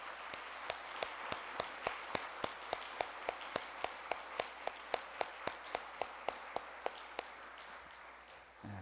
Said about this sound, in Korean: 여러분 박수 한번 크게 쳐드리면 좋겠어요.